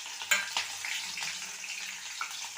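A chili dropped into hot oil already popping with mustard seeds, giving a steady bright sizzle with a few sharp crackles near the start, close and continuous with no talking.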